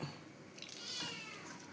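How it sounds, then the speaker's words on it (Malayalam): A faint kitten meow rises once over a quiet, hissy background. "ഇടക്കിടക്ക് മറ്റേ പൂച്ചക്കുട്ടീനെ ഓർമ്മ വന്നിട്ടാന്ന് തോന്നുന്നു ഇങ്ങനെ കരയും"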